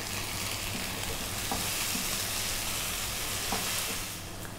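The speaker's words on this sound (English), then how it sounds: "Now we add the tomato paste and cook for 5 minutes." Tomato and tomato paste cooking in a pan for a liver dish, a dense continuous sizzle with occasional stirring scrapes, close and fairly loud, no talking.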